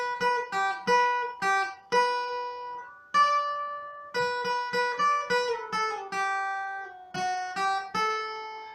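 Single guitar notes picking out a song melody in a clean, plucked line of short and sustained notes with brief pauses, played alone and up close with no voices.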